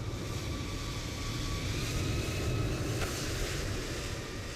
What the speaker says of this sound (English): that airplane is way too loud